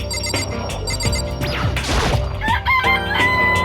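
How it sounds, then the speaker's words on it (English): A rooster crows in the Danganronpa video game, a rising cock-a-doodle-doo amid game music and crashing effects, fairly loud and brief. "It's a chicken. It really is right."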